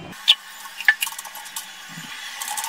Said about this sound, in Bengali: এবারে হাত দিয়ে ভালো করে সবকিছু মেখে নেব।